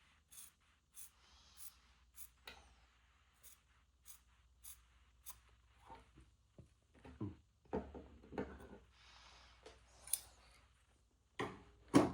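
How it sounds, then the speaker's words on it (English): Scissors snipping a notch into sundress fabric, a series of crisp, close, separate cuts spaced out, growing a little louder and denser toward the end, with no talking. "cut my other notch out."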